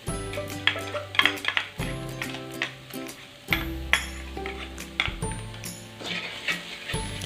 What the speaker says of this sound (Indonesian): Kita tumis lagi sampai bumbunya merata ke dalam ayamnya.